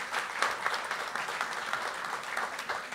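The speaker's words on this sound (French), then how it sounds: "vous pouvez applaudir" Audience applause at a French business talk on fintechs and banks, a dense steady patter of many hands clapping for the full length with no voices over it.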